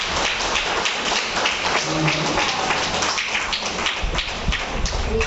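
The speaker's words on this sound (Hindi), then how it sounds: "बजाओ एक बार ताली सभी" A spiritual class audience claps together in a dense, sustained burst of applause, loud and continuous, filling the hall without pause.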